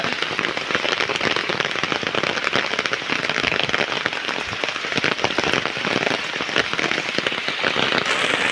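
Heavy rain pours down steadily in a village, a dense hiss and patter drumming on surfaces without pause, loud and close, with only faint traces of voices beneath.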